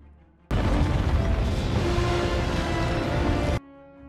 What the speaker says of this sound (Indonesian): bubuk hitam pun meledak hingga membuat sang ratu hancur berkeping-keping